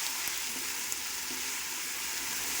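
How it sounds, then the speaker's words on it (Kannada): Ginger garlic paste fries in a hot pan for country chicken dum biryani, giving a steady, close, bright sizzle that holds evenly throughout. "ಸ್ಪೂನಷ್ಟು ಜಿಂಜರ್ ಗಾರ್ಲಿಕ್ ಪೇಸ್ಟನ್ನು ಹಾಕಿ ಫ್ರೈ ಮಾಡೋಣ"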